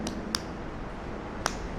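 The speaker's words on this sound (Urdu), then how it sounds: "اس کو بولتے تالی" Two sharp, single hand claps about a second apart ring out in a quiet room during a religious lesson on prayer, each crisp and isolated.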